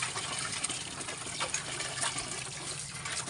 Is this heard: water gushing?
yes